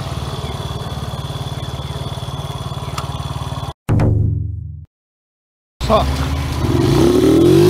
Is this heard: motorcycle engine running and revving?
yes